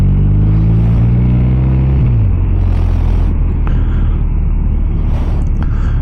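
A 2023 BMW R 1250 RT motorcycle pulls onto a motorway, its engine droning steadily and loud, the pitch dropping at a gear change and settling into a continuous cruising rumble with wind noise.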